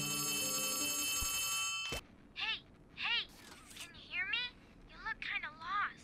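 An old-style telephone bell rings steadily in the video game Poppy Playtime Chapter 3, then cuts off, followed by animated, excited talk in bursts.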